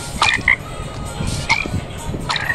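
Minecraft frog croaking in a few short, bright, chirpy bursts spaced about a second apart, close and clear over a low background rumble.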